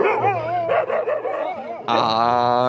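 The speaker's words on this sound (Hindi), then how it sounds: "कृष भाई का कुत्ते ने पेल दिया" A dog yips and barks in quick, whimpering bursts, closely miked and loud, with a higher-pitched bark near the end over a busy background.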